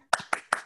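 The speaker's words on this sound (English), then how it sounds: "So I'd like to just do a final round of applause for everybody." Three sharp, evenly spaced hand claps close to the microphone at a virtual symposium, a small pocket of applause rather than a full crowd, with no talking.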